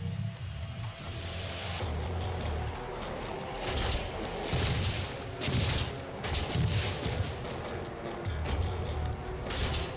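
Heavy weapon fire in DOOM 4 using the missile mod, repeated loud bursts and booms over a constant rumbling game soundscape, with several punchy blasts spaced a second or two apart.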